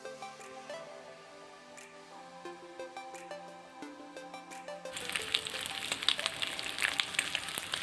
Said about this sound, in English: Remember, we need to fully fry it. We need to fry it till it's done.